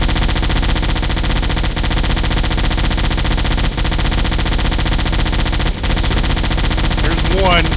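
Deck gun fire in the submarine game Silent Hunter, aboard the USS Triton SS-201: a dense, continuous rattle of rapid shots running throughout, with brief gaps and faint voices near the end.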